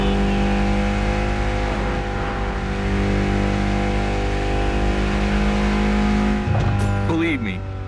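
A Mitsubishi inline four-cylinder engine in the racing game The Crew Motorfest hums steadily at constant revs, loud and continuous, with a brief shift and a squeal-like sweep near the end.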